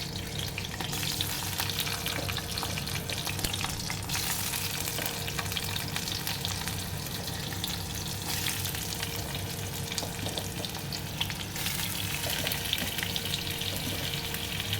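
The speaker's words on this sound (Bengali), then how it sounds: "প্রথমে আমি আলুগুলো একটু ভাজতে দিয়ে দেব" Potatoes fry in hot oil with nigella seeds in a pan on a gas stove, a steady, close sizzle that holds at an even level throughout with no voices.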